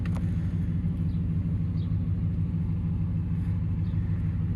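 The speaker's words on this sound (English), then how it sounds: "I want you to be able to hear the rumble of the engine." A 2018 GMC Sierra 1500 SLT Alpine Edition pickup idles with a steady, deep low rumble, heard up close and continuous with no talking.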